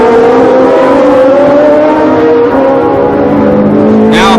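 A 1970s Ligier Formula One car with a Matra engine screams loud and close, its high engine note holding steady at the 1976 Long Beach Grand Prix.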